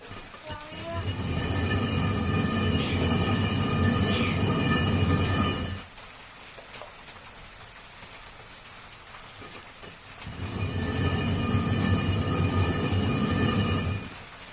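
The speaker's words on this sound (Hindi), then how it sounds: "और ये चक्की की आवाज़ सुननी थी" A traditional stone hand mill (chakki) grinding and splitting moong dal gives a steady, close rumbling grind, stopping for several seconds midway before resuming.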